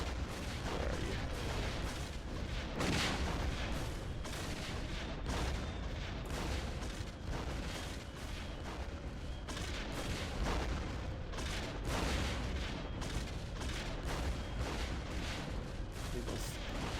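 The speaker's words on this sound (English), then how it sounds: "Those are from the lasers of the corruptors that are exploding." Dense, continuous laser fire and rolling explosions from corruptor ships in the space combat game X-Wing Alliance, loud and sustained with repeated booms and bursts throughout.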